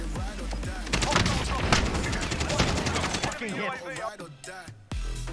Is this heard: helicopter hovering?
no